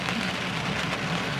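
Steady rain pours onto a surface, a dense, even hiss of drops with no voices and no breaks.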